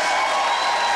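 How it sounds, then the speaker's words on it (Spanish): A studio audience on a TV show applauds a guest, a brief burst of dense clapping that fills the moment. "Un aplauso para él."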